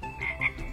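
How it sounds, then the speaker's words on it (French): A frog croaks in a children's show setting, two short high-pitched croaks rising over a soft murmuring background, close and moderately loud in under a second. "Hey, une grenouille."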